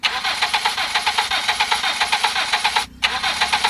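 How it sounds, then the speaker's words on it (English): A car's starter motor cranks the engine in a steady, rapid rhythmic churn, pausing briefly near the end before resuming, loud and close with no talk. "So we need to identify if the car starter is cranking."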